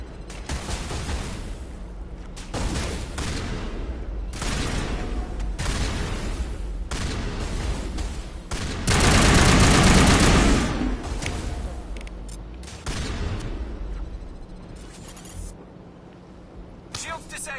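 Mass Effect combat on Virmire, with dense crossfire from several weapons in overlapping bursts and a swell of heavy blasts midway, loud and continuous while voices speak at times.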